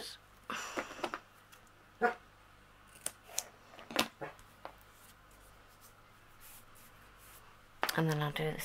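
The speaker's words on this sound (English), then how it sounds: "Scissors." Several crisp scissor snips cut through paper in short irregular bursts, close up, with a quiet room hum and a brief rustle at the end.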